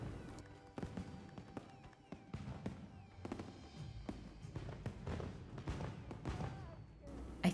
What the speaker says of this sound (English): With these fireworks going off.